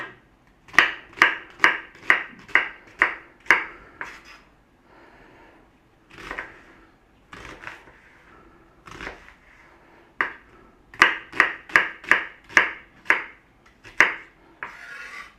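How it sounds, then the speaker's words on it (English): Knife dicing onions on a chopping board, close and crisp rapid runs of sharp chops in quick rhythmic bursts separated by pauses and softer scraping, no talking. "Now onions can't be any simpler, we just want to cube them. Just dice them up, any which way that you normally dice onions."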